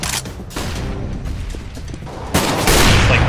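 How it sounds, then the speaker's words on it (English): A flashbang grenade and gunfire in the video game Counter-Strike: Global Offensive, with dense bursts of shots that grow louder toward the end, close and sharp. "Throwing flashbang."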